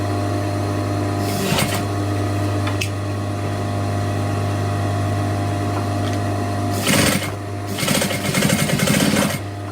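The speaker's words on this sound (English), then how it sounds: "I'll just fold that down and then top stitch it in place" A sewing machine hums steadily while topstitching a folded edge on a trial bag, a continuous close motor drone with brief louder bursts of stitching near the end.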